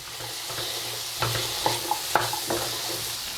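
Potato, carrot and green peas sauté in a pan, a soft steady sizzle broken by several light spatula taps and scrapes, quiet and without talk.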